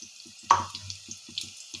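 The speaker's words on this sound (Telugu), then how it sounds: "1 గ్లాస్ సేమియాకి 1 గ్లాస్ వాటర్ యాడ్ చేయాలి" Water poured from a glass onto vermicelli in a pan, a brief splash followed by light trickling and soft drips, close and quiet.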